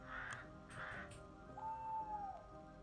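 A crow caws twice in quick succession during a bird-sound puzzle in an escape game, the calls clear and close, followed by a thin whistling tone with no talk over them.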